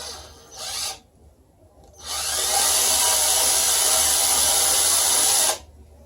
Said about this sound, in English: I'm going to drill a little hole here at the base